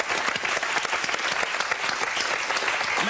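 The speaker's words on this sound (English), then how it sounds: "Let's give her a round of applause." A studio audience bursts into loud, brisk applause, a dense burst of many hands clapping up close that carries on without a pause.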